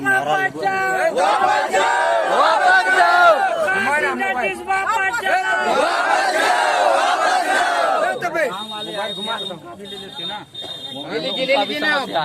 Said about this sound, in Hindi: ये पूरी भीड़ प्रकाश इंडस्ट्रीज के विरोध में यहाँ आई थी